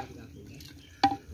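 A spoon scrapes and clatters inside a clay pot while kunda chicken is stirred outdoors, giving a few soft, close knocks and scrapes with one sharper clink near the end.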